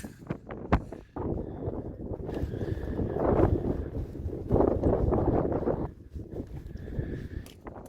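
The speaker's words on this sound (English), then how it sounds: "It is seriously windy" Strong wind buffets the microphone in heavy rumbling gusts outside an abandoned mine, with a few sharp knocks at the start and brief lulls between blasts.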